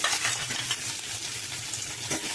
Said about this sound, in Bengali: পেঁয়াজগুলো একটু ভেজে নেব আগে